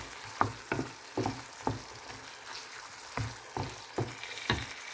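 Fried brinjal and potatoes are stirred in a pan over a low sizzle, with a rhythmic series of soft scraping strokes at close range and no talking.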